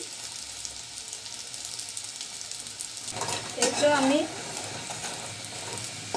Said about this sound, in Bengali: সান্না পিঠাগুলোকে তেলে ভেজে নিলাম